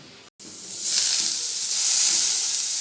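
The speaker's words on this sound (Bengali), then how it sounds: "এবার উচ্ছেটা ভেজে নেব কড়াই বসিয়ে দিয়েছি" After a brief gap, bitter gourd hits a hot wok and a loud, bright sizzling hiss swells and holds steady, heard up close with no speech.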